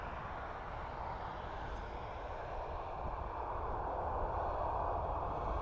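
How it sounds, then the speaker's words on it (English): An Airbus A320 airliner departing Dublin Airport for Split gives off a steady, broad engine roar that holds even and slowly swells slightly louder, with no voices. "this is EIDEO Airbus A320 off to Split, the capital of Croatia"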